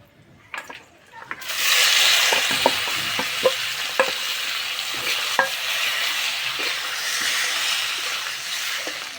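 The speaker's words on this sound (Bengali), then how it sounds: "ফোড়ন, তেজপাতা, শুকনো লঙ্কা, তিল মাখানো আলু দিয়ে দেবো।" Potatoes coated in sesame seeds hit hot white oil with panch phoron, bay leaf and dry chilli, bursting into a loud, sustained sizzle after a few initial clinks, with occasional stirring knocks throughout.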